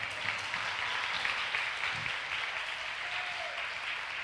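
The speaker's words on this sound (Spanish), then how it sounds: "Aplauso a esa palabra." Church congregation applauding during a sermon, a soft, steady patter of many hands heard from some distance, continuous for several seconds and fairly faint, with no speech on top.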